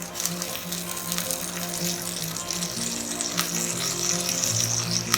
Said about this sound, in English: Now we'll add the dry red chilli and the curry leaves.